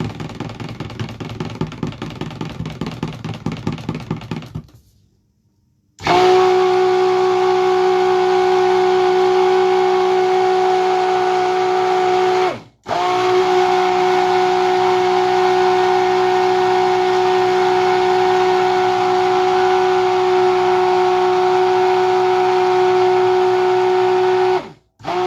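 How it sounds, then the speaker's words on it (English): A stick blender mixing cold process soap batter in bursts: a loud, steady whining motor drone, stopping briefly twice between long runs, after some quieter handling noise at the start. "This stick blender is a lot louder than the other one."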